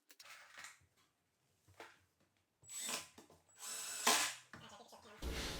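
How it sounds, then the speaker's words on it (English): A power drill drives 1 1/4 inch washer-head cabinet screws down into a built-in cabinet top from the inside, giving several short, close whirring bursts separated by pauses, with the longer runs toward the end. "now I'm just screwing the top down from the inside through those spanners, and I'm using 1 1/4 inch cabinet screws"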